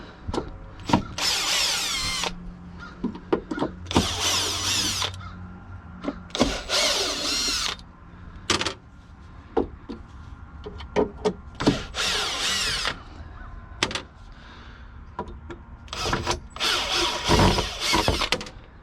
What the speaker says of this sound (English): now what I need to do is I can take out these screws